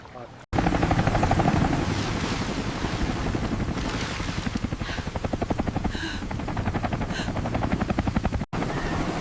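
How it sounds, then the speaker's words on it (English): A helicopter thrums overhead in a tornado superstorm survival game, its rotor chop loud, fast and steady, holding close for several seconds with brief breaks and faint voices or effects underneath. "Is that a helicopter?"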